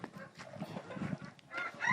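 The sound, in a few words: Cochin chickens clucking, rooster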